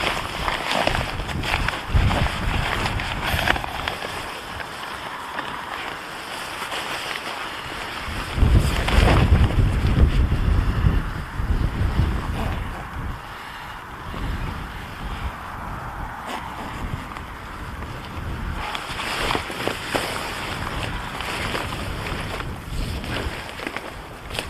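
Wind gusts buffet an outdoor wild camping spot in the UK, a steady loud roar with rumbling microphone buffeting that swells around the middle and again near the end, with no speech over it.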